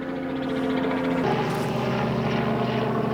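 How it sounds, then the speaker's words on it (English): A helicopter flying overhead at Taupō, New Zealand, a steady rotor and engine drone that swells as it passes, loud and continuous, with no talk. "Helicopter. They do like helicopter tours here."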